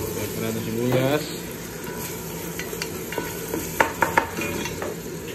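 Onions sautéing for pancit, sizzling steadily in a hot pan with a spoon stirring and scraping through them, a few sharp clinks of utensil against the pan near the end; a voice speaks briefly early on.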